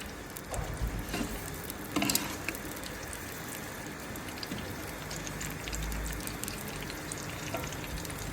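About a kilogram of onions fries in a pot of oil for paya, a dense, steady sizzle up close with a few stirring scrapes and bumps, no voices.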